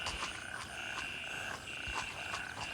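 Frogs croak in a repeated, fairly regular rhythm over a soft ambient bed in the video game Greyzone Warfare. The croaking is moderately faint and steady, with no voices.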